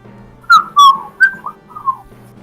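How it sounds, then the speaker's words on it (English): Several short, bright whistled notes, some rising or falling, sound at close range in quick succession, with faint room noise underneath and no talking. "It's a whistle."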